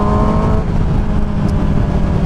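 Loud, steady engine and exhaust roar from a 2007 Yamaha YZF R6 motorcycle with a mid-pipe and GYTR slip-on exhaust, ridden on a mountain road. It holds a constant high drone through the whole stretch with no talk.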